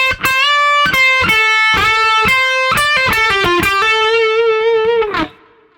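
A lick from a guitar solo on overdriven electric guitar: quick picked notes, pull-offs and hammer-ons in a rapid run, ending on a long sustained note that fades out.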